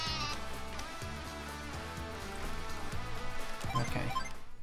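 Sheep bleating sound effect from the Advance Wars 1+2: Re-Boot Camp strategy game, playing over dense, continuous game music and growing slightly louder toward the end.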